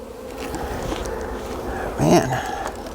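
Honeybees buzz thickly around an opened hive, a steady close hum with a louder swell near the end as bees pass by, while a person speaks over it.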